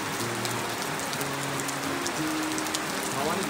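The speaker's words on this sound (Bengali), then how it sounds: "চরম বৃষ্টি" Heavy rain pours steadily on a mountain road, a dense, even hiss of drops with no pauses, while faint low tones run underneath throughout.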